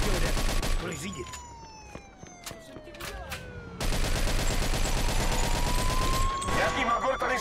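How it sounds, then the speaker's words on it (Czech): Rapid bursts of gunfire in the video game Mafia 2 crackle over a steady engine drone with a gliding siren-like tone, busy and loud throughout. "Jaký magor tady střílí?"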